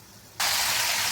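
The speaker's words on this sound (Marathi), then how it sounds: "कडकड असा आवाज येतोय." Potato slices crisping in hot oil burst into a sudden loud, steady hiss and crackle when salted water is splashed into the pan, following a brief quieter sizzle.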